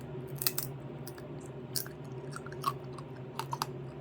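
Crispy dehydrated frozen vegetables being chewed, with several sharp crunchy bites over a steady low hum, close and fairly quiet, with no talking.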